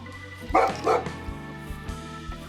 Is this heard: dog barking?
yes